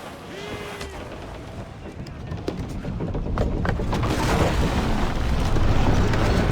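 Ship cannons fire during a naval battle in Assassin's Creed IV Black Flag, deep booms rolling in and building into a loud, sustained rumble of gunfire and sea noise, with brief shouting early on.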